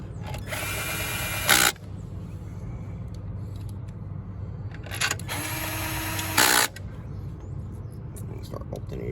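A cordless drill runs bolts back into a 50cc IceBear Vision scooter's CVT cover in two short, loud whirring bursts, with a low steady hum and faint shop noise between them.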